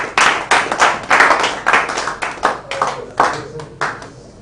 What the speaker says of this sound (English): Please, one more time, a round of applause for him.